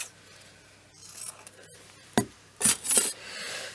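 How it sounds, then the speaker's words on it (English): Scissors snipping through paper while cutting pieces for a December Daily craft journal, a few short close cuts standing out over faint rustling of paper. "Let's cut some of that off."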